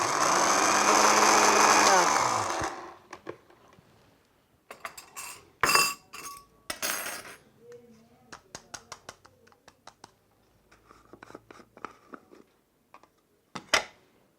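An electric grinder whirs loudly for a few seconds while grinding hibiscus and herbs into powder, then its motor winds down and stops, followed by scattered clinks and knocks of the jar and utensils.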